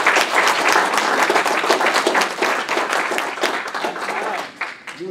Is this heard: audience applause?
yes